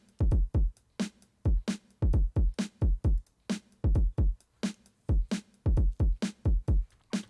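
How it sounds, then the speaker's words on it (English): Clean, undistorted drum samples from Splice played through the Studio One Impact sampler, a loud repeating beat of punchy kicks, snares and hi-hats in steady rhythm with no talking. "I'm just using Impact by Studio One as a drum sampler."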